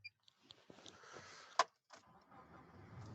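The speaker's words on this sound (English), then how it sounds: "I'm gonna have to start the car" Car being started from inside on a cold night in Iceland: a few faint clicks and rustles, a sharp clunk of the ignition, then a low steady engine rumble settling in, with no talking.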